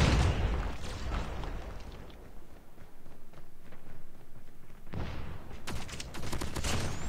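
Rapid assault rifle hipfire with a rapid fire barrel in COD Mobile: dense, continuous bursts of gunfire with booming impacts, loud and close throughout, with a renewed sharper volley near the end.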